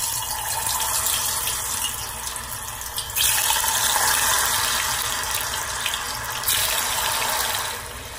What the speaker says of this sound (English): Now deep fry.